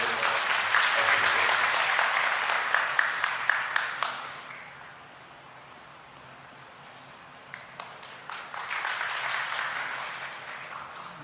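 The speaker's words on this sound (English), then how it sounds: "So let's give a big round of applause and welcome him." Audience applause at a North America alumni convention of St. Berchmans and Assumption College, a loud burst of clapping that fades to a quiet lull and then swells again near the end.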